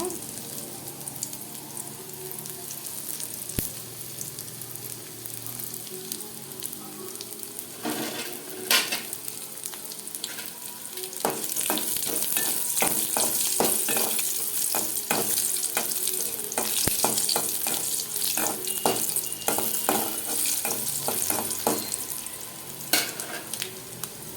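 Dried red chilies fry in hot oil in a pan, a continuous close sizzle that grows louder partway through, broken by irregular scrapes and taps of a spoon stirring.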